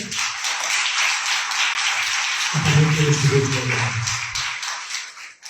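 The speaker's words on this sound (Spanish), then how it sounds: "otro aplauso para él" Audience applause at a Spanish-language university book forum panel on audiobooks, a steady dense patter of clapping throughout, with a voice or murmur briefly rising under it midway.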